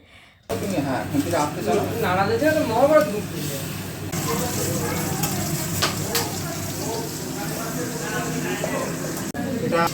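Food frying in hot oil for a Kojagari Lakshmi Puja offering, a steady sizzle under people talking nearby, with stirring and occasional clatter.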